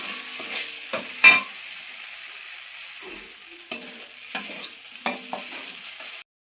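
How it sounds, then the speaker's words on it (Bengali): Onions fry in a pan with a steady, bright sizzle, broken by irregular scraping knocks of a spoon stirring, close and continuous with no talking. "পেঁয়াজটাকে ভালো করে ভাজিয়ে তারপর মশলাগুলো ভাজবো"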